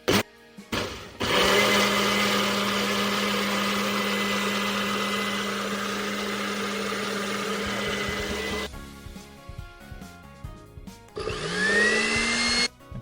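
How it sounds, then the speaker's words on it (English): A blender sound effect runs loud and steady for about seven seconds with a whining motor hum, cuts off, then a second shorter blender burst spins up with a rising pitch near the end. "Give me the blender sound."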